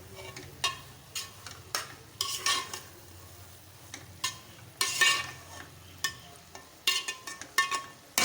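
A spoon stirs and mixes urad dal in a pan in irregular scraping bursts, with a faint sizzle underneath.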